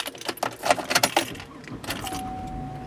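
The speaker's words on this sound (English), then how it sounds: "the first thing I'm going to do is go ahead and start up my vehicle" Keys jangle loudly in a burst of metallic clinks inside a vehicle, then a car engine starts and settles into a steady low idle with a thin whine.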